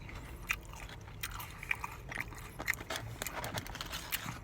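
Chewing of loaded nacho chips during a Mexican food eating session, close, moist munching with soft, irregular crunches and smacking, steady and intimate with no talk.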